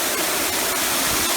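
Triple Water Falls at Nariampara, heard close up as a loud, unbroken roar of falling water that fills the whole moment with steady spray noise.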